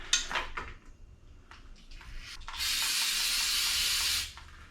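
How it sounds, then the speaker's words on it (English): A few short spritzes of cleaner onto a Subaru engine oil cooler, then one long steady hissing spray lasting over a second, close by and fairly loud. "So I'm going to start by cleaning up this whole oil cooler. Just going to spray it down."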